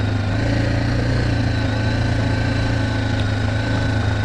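A BMW G310GS motorcycle engine idles close by, a steady low rumble with an even pulsing throb that holds without change, and no talk.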